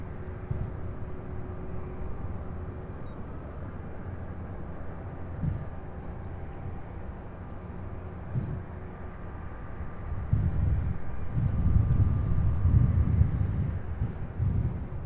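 A jet departs runway 35 right at Louisville's SDF airport, a steady low engine rumble that swells noticeably louder and rougher near the end, heard from a distance with no voices.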